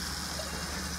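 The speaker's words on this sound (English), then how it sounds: "If we turn on the water" A smart kitchen faucet runs on cold, giving a steady, even gush of flowing water that stays close and constant throughout, with no voices over it.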